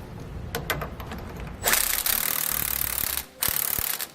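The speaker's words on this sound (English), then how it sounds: "Now we're going to tighten down all 4 of our bolts supporting our sway bar." Ratchet clicking while sway bar mounting bolts are tightened on a 2017 Ford F-53 motorhome chassis, a run of quick close mechanical clicks followed by a steady louder scraping burst with a brief pause.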